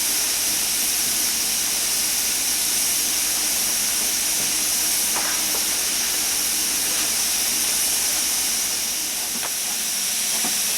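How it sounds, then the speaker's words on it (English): Chicken cooking in trials for KFC-style results gives off a steady, broad steam hiss that continues evenly throughout, with faint clicks and crackles in the background. "5 minutes to go and she's certainly steaming out now"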